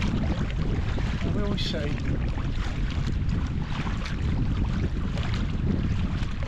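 Strong wind blowing straight into the face of a solo sea kayaker, a loud continuous buffeting roar across the microphone with water noise beneath and a few brief spoken words.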